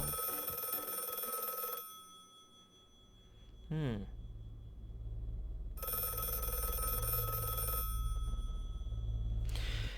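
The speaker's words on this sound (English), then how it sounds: "So the moment the phone rings, it's saying, let's get healthy." A telephone rings in two long bursts of bright electronic trilling, separated by a pause. A short rising tone sounds in the gap, over a steady low background.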